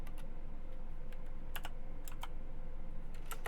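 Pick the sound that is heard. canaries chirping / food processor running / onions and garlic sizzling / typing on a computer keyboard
typing on a computer keyboard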